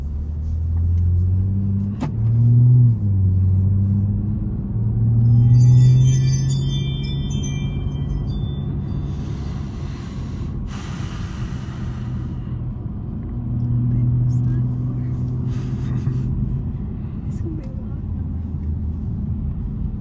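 An Audi A7 3.0 TFSI with APR Stage 1 tune and cold air intake drives on the road, a low engine rumble swelling and easing with throttle under a steady road drone, with a brief bell-like chime and occasional talk.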